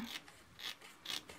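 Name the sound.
trimming overhanging paper off a card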